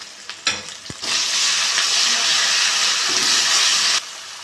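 Chopped onion hits hot oil with a sudden loud sizzle that holds as a strong, close, steady hiss for about three seconds before dropping back to a quieter fry, with a few clinks of handling around it.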